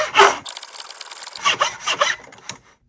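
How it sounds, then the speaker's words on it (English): A miter saw trims about a quarter inch off the end of a poplar board for a box ukulele heel block, with short bursts of rasping cutting noise, a pause, then several more close cuts before falling silent. "The first step is going to be to trim down one end on the miter saw to make sure that it is"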